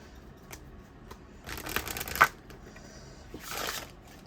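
Large oracle reading cards are riffled and shuffled in a couple of fluttering bursts with soft handling taps between, close up in a quiet room.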